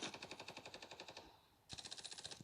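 P90 submachine gun fire in the mobile shooter Standoff 2: a rapid automatic burst of about fifteen shots lasting over a second, a short pause, then a second sustained burst, loud and close, with no talk.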